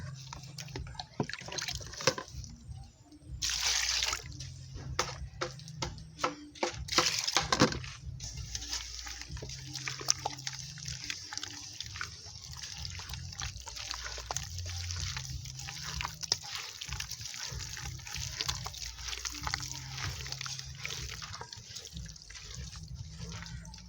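Water trickles and drips steadily into a pot while Nigerian fufu is cooked outdoors in a village, a continuous close splashing with a few brief louder pours and faint voices in the background.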